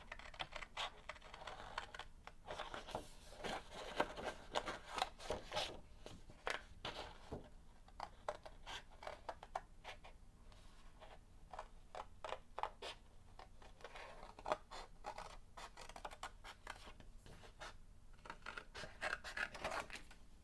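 Scissors snipping through material to cut out a coin purse piece in a craft tutorial, a rapid run of crisp, close clicking cuts and soft rustles with no talk.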